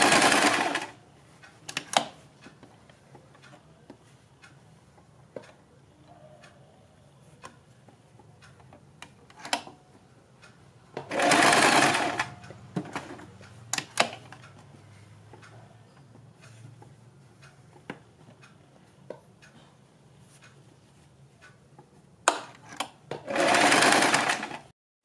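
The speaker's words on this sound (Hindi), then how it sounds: "और इसके ऊपर सिलाई लगाते रहें।" A sewing machine stitches small pleats on a frock dress in three loud, close bursts of rapid mechanical running, separated by quiet stretches with faint clicks and fabric handling.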